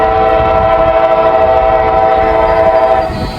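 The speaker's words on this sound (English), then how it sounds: "It kind of looks like a coal train." A CSX coal train passes close by in Wyoming, its loud, sustained multi-tone horn blaring steadily over rumbling wheels, fading slightly at the end.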